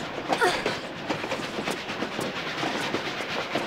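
Train carriages in the video game Tomb Raider: The Last Revelation rattle with a steady rushing roar and a faint rhythmic clickety-clack, continuous and without talk.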